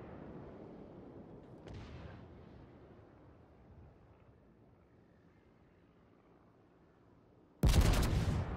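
An enemy battleship fires a broadside in World of Warships: after a stretch of low, quiet rumble, a sudden heavy volley of booming cannon blasts erupts loud and close near the end.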